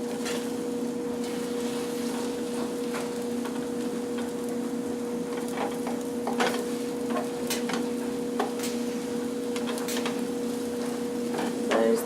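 Egg frying in a pan gives a constant soft sizzle under a low steady hum, with scattered light scrapes and ticks as it is stirred.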